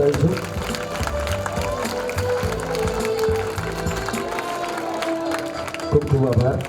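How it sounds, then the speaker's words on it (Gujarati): Audience applause at a school ceremony at Aadarsh Vidhyalay, a sustained crowd clapping that runs steadily through the moment with a general murmur of voices beneath it. "જોરદાર તાળીઓ પાડીને વધારીશું."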